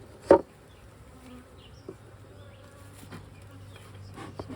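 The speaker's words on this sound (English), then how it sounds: "Lots of bees in there." Honey bees hum softly inside an opened hive during an inspection, a low steady buzz with a sharp knock near the start and a few small clicks of handling.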